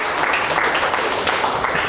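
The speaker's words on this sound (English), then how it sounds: "So a big round of applause for all the volunteers." An audience claps for volunteers at an anniversary talk, a steady dense round of applause throughout, fairly loud and close with no break.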